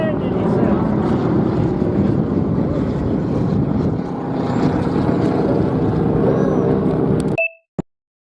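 Aircraft arriving and landing at the Sun n Fun airshow, a loud steady engine and propeller roar blended with wind buffeting the microphone, cutting out abruptly near the end followed by a brief beep.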